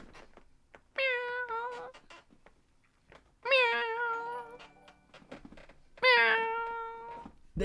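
A recorded cat meows three times as a livestream donation alert. Each meow is loud, clear and drawn out, with evenly spaced pauses between them.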